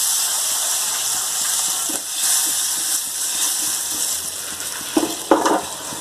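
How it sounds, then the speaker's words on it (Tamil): Ground spice powder sautéing in coconut oil in a pan, a steady soft sizzle and hiss close by, with a few scraping stirs growing louder toward the end. "தேங்காய் எண்ணெய் ஊற்றிட்டு பொடி செஞ்சதை அதில் போட்டுக்கலாம். வாசனை வர வரைக்கும் வதக்கிக்கலாம்."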